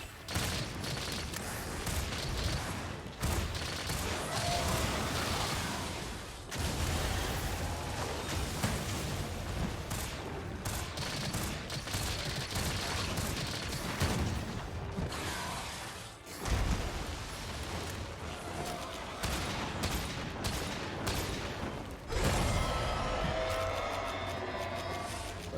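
Gunfire in Monster Hunter Rise: Sunbreak, sustained bursts of dense shots filling most of the stretch, loud and close, broken by a few brief pauses.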